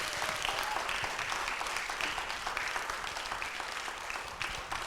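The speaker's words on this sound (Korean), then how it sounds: "환호와 함께 정말 뜨거운 박수가 쏟아지고 있습니다" An audience at a televised lecture by a poet applauds. The clapping is dense and sustained at moderate distance and stays fairly even throughout.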